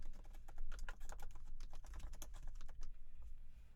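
Rapid, close clicks of a computer keyboard as a username and password are entered, an irregular run of light keystrokes that slows and fades near the end.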